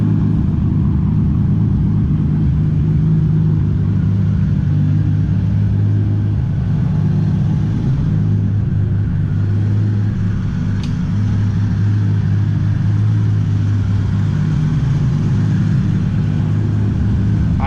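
A 1000HP Toyota Supra MK4 cruising on the road, heard as a steady low engine drone and rumble from inside the car, loud and constant with little change in pitch.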